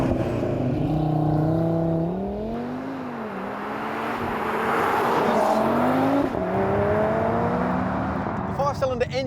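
An Audi TT RS five-cylinder engine growls loudly and continuously, its exhaust note rising and falling in pitch as the car revs and accelerates, close and dominant throughout.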